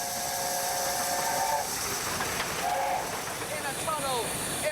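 A Gresley steam locomotive with a steam whistle: a hissing, rumbling engine with several short whistle tones sliding up and down, while a narrator speaks over it.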